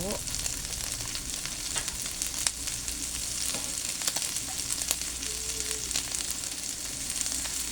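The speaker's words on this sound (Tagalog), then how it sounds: "Mix natin yung ating kalabasa." Squash being stirred in a frying pan with coconut milk and smoked fish, a steady close sizzle with soft scraping stirs and occasional utensil taps, no talk.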